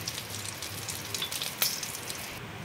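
Oil heating in a pan while cooking shorshe chingri gives a soft, close crackling sizzle with a small sharp pop partway through.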